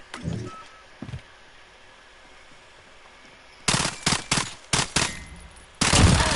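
Fennec submachine gun in Call of Duty: Modern Warfare firing several short, extremely rapid bursts, loud and close, after a few quieter scattered sounds and a stretch of near silence.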